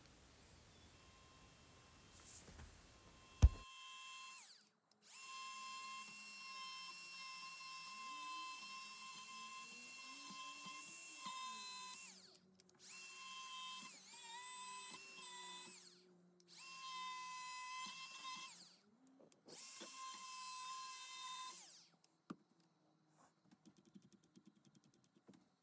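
A brushless power carver fitted with a Kutzall taper burr carves a wooden face, its high-pitched whine running in several steady bursts with short pauses between them, fairly quiet and close, with no talk.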